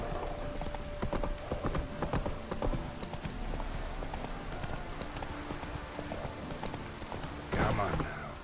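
Roach, Geralt's horse in The Witcher 3, gallops with rapid rhythmic hoofbeats, clear and steady throughout, while someone talks over the ride and other game sounds.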